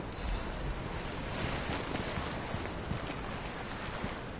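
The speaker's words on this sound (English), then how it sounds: "I do not like how the water is feeling extra choppy today. Or sounding extra choppy today." Choppy water waves in the video game Lies of P, a constant washing, sloshing surf with wind-like hiss, steady and fairly faint with no breaks.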